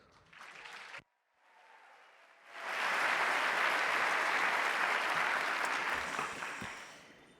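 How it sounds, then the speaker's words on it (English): An audience applauds for author Susan Orlean at a publishing centennial event: after a brief pause, steady, full-room clapping swells and holds for several seconds, then begins to fade. "please give a warm round of applause to New Yorker staff writer and best-selling"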